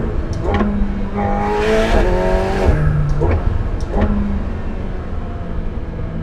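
A McLaren 750S sports car accelerates hard on a straight road, its engine climbing through rising revs with quick gear changes and fresh pulls, loud and sustained from inside the cabin with no talking.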